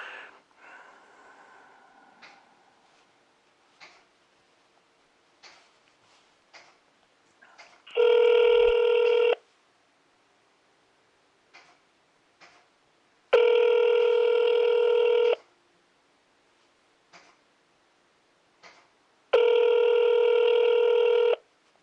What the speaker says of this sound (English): I am about to call Benjamin back